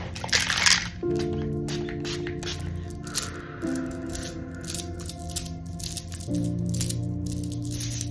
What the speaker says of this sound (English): And I have the shamanic cleansing spray.